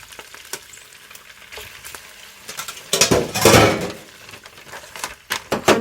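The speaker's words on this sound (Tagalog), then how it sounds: "And a small amount of cooking oil. Let's fry our fish." Sardines fry in a small amount of cooking oil in a pan, a low sizzle crackling throughout that swells into a loud, spattering hiss midway before settling back, with occasional clicks of utensils.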